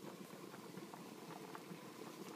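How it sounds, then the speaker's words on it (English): Water boiling in a pot with a wooden spoon laid across the top, a dense steady bubbling and fizzing patter, fairly quiet and continuous with no voices. "that was boiling up"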